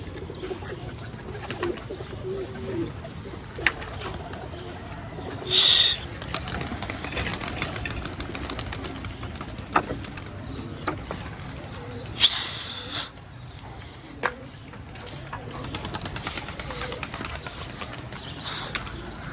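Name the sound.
pigeons flying and cooing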